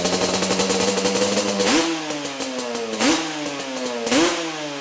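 A Yamaha Banshee ATV's two-stroke engine runs loud and close after an idle sync, with a busy, buzzing idle that swells into three short throttle blips.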